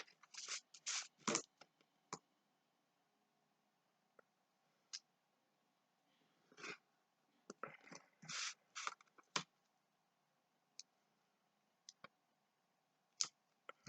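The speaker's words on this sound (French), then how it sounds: "on vient couper l'intérieur de notre rectangle" Craft knife slicing through the inside of a paper rectangle, heard as scattered short scratchy cuts and clicks, some grouped in quick bursts, others single, close and fairly quiet with pauses between.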